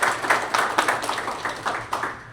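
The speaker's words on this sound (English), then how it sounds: "give Johnny and Laura a hand, a round of applause to thank them for doing that." Audience clapping in applause after a talk, a short burst of many hands clapping at moderate loudness.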